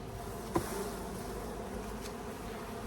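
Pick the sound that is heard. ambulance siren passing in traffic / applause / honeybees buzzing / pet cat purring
honeybees buzzing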